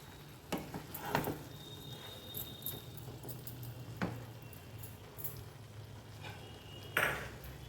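Fried cashews and raisins stirred into rice cooking in a pan, with a steady low sizzle and a few sharp spoon clinks against the pot, close and fairly quiet.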